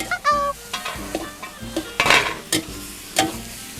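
Liang leaves and egg stir-fried over high heat in a pan, a spatula scraping and clacking in quick uneven strokes over a steady hiss of frying.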